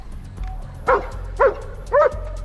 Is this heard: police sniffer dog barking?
yes